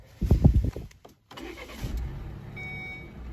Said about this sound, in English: It sounds a bit like a diesel at startup